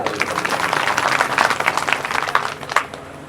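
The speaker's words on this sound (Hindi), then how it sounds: "बताइए ताली" An audience at a Bhagavat Katha religious discourse in a village claps, a dense patter of many hands in a room that rises, holds, then thins out.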